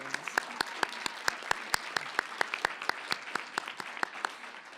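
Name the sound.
audience applause at an awards ceremony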